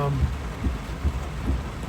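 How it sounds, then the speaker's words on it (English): Heavy thunderstorm rain pours in a dense, constant hiss on a flooding road in Sarasota, with low thumps recurring every half second or so. "it just started raining and the whole road flooded out"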